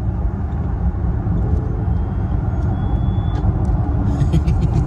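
A Fisker Karma hums steadily as it drives off, a dense low rumble that stays even and close throughout, with faint clicks and a brief higher whine near the end and no talking.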